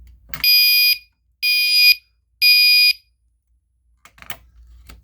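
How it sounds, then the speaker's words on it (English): A Simplex fire alarm, set off with a key, sounds three loud, piercing electronic blasts of about half a second each with short silent gaps between them, followed by faint rustling afterward. "You're gonna put your key in here and turn it, and the alarm will activate"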